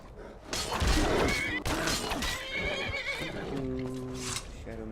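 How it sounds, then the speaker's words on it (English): Shadowmere, the black horse in the video game Skyrim, gives a loud whinnying neigh, with hoof clatter and a crash-like game sound effect mixed around it. "Coolest horse in the game."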